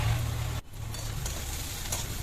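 Onion fries in a pan until golden brown, giving a loud, close, continuous sizzle with a brief dip partway through.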